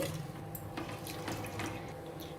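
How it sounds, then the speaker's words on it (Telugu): Toor dal (pigeon peas) is washed in a cooker pot under running tap water, a steady faint splashing and trickling with light sloshing, no voices. "ఇప్పుడు కందిపప్పును ఒకసారి నీట్గా వాష్ చేసేసుకోవాలి"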